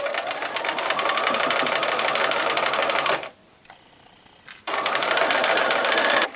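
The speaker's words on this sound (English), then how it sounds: "Remove the next pin when I'm sewing." Sewing machine stitching a quilt four-patch, a steady close mechanical whir with a fast needle rattle that halts for about a second and a half before running again.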